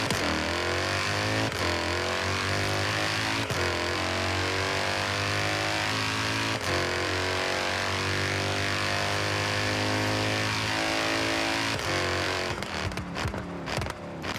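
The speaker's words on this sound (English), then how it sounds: "I'm going to switch mine to automatic right now and I'm going to go from first gear to fifth gear so you can just see how it acts" A car engine in the Forza Horizon 3 racing game pulls hard at full throttle through automatic gear changes, a loud continuous rising whine broken by brief dips at each upshift, with no talking.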